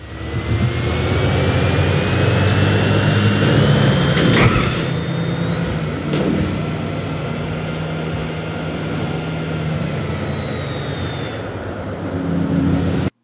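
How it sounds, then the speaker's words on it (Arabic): A sports car in GTA V with a roaring engine that sounds like a jet, a loud sustained whine and rumble rising in pitch over about eleven seconds, then dropping and swelling again near the end. "وبالحديث عن صوتها فهو على الاغلب صوت طيارة وسيارة"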